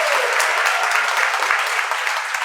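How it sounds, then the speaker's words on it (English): Steady audience applause at a retirement celebration, a dense, even wash of clapping held at constant loudness throughout. "a round of applause for her"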